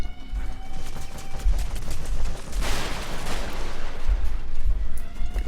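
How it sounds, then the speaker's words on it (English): Heavy machine gun fire in Metal Gear Solid V rattles in rapid bursts, with sharp repeated shots and booming low thuds over a sustained loud battle din, peaking midway. "we got a heavy machine gun up there"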